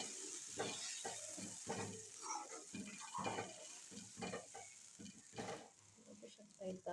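Urad dal tipped into a hot pan with salt, turmeric, garam masala and green chilli paste gives a quiet, close sizzle, broken by uneven scrapes and knocks of stirring.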